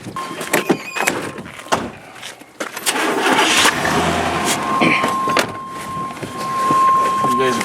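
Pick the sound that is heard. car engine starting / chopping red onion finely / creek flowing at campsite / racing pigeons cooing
car engine starting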